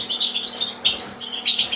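Small birds chirp in a breeding aviary, with bright, rapid tweets in repeated bursts close by and a steady low hum underneath, and no voices.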